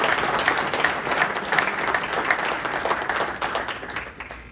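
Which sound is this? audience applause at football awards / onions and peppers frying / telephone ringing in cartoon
audience applause at football awards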